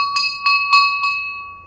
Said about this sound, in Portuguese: a campainha.